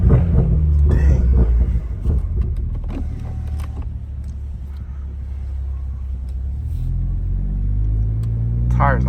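A Toyota Supra fitted with a 5-inch downpipe exhaust gives off a deep, loud, continuous engine rumble close by, with a voice talking over it at the start.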